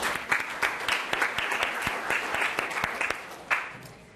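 Applause at a high school fall sports banquet honoring volleyball and cross country athletes: a steady, fairly close crowd clapping continuously for about four seconds, with a few sharper individual claps standing out.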